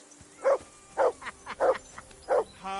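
A single dog barks four times in evenly spaced bursts at moderate distance, with quiet pauses between each bark and no talking.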